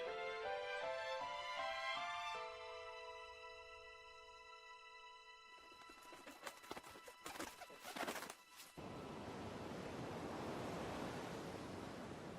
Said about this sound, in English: I could hear the sound of the waves